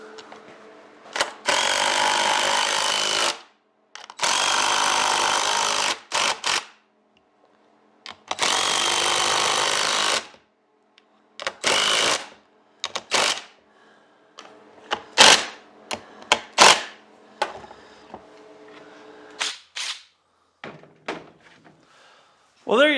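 A 2x8 wooden board is cut with a power saw in several loud bursts of a few seconds each, separated by silences, followed by a run of short knocks and clunks as the pieces are handled.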